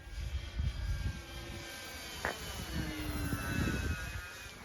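Dynam P-47 1.2m V1 RC model airplane flying at full throttle, a thin, steady high-pitched electric motor whine overhead against a low rumble of wind and outdoor noise, with a faint clack partway through.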